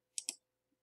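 Two quick, crisp computer mouse clicks in close succession, sharp and near in an otherwise quiet room, followed by a faint tiny tap.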